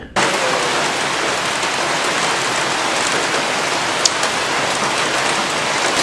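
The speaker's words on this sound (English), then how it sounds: "the moisture trapped by these great forests falls to the ground as tropical rain" Heavy tropical rain pours down steadily in a forest, a dense unbroken hiss of drops on surfaces, loud and close.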